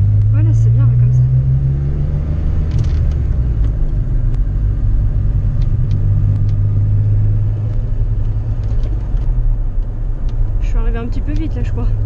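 A DeLorean DMC-12 drives along with a deep, steady engine rumble close by, while a voice talks over it throughout.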